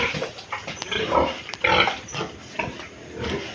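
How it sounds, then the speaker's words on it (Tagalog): Several pigs and piglets at a piggery grunt and snort continuously nearby while eating, overlapping in a busy, rough chorus with occasional louder squeals and clanks. "Daming baboy, may mga biik."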